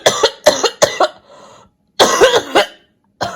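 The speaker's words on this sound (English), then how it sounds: "insert my cough here." A mild cough from a person with a coronavirus illness in isolation in Italy: several short close coughs in two bursts with a pause between, loud and clear with no talk.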